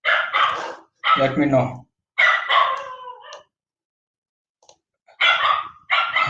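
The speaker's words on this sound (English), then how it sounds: "Yeah, these dogs." Dogs bark in short bursts near a person talking on a web development tutorial, the barks breaking up and overlapping the speech before a quiet gap.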